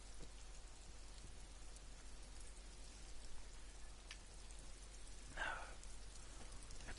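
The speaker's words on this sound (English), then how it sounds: "It's raining." Steady rain in the video game Disco Elysium, a soft continuous hiss that holds at an even, moderate level throughout, with a brief brighter burst of sound near the end.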